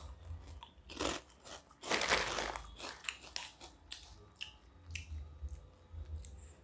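Korean shrimp-flavored snack crunched in close bites, several loud crunchy chews clustered around the middle with softer chewing before and after, no talking.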